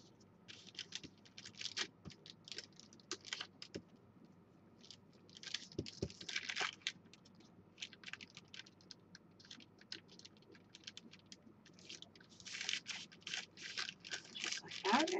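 Scissors cutting scrap paper for collage, with crisp, rapid snips and rustling in irregular bursts, while a person talks quietly.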